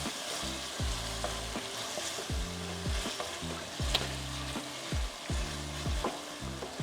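A pot of pasta sauce sizzles on the stove while a spoon stirs it in steady, repeated scraping strokes, close and fairly loud, with continuous frying hiss beneath.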